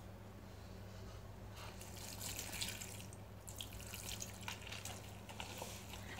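Water streaming from a tap or being poured while dough for luqaimat is kneaded, a soft splashing run with bursts of watery noise over a low steady hum.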